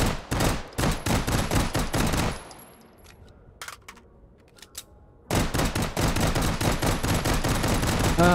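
An M93R pistol firing bursts in Hot Dogs, Horseshoes & Hand Grenades in VR, rapid close sharp shots in quick clusters, then a quiet gap with a few scattered shots, then another long run of rapid fire.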